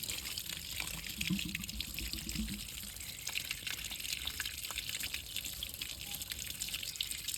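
Water flushes out beneath the tank of a Yuvraj mini tractor during water filter servicing, a continuous near gushing and splashing flow with small drips, with no talk over it.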